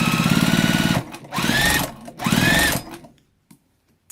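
A domestic sewing machine stitching a tote bag runs in a fast, steady whir, pausing twice and restarting in short bursts before stopping; close and fairly loud, with no talk over it.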